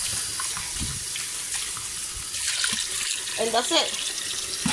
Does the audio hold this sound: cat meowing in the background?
no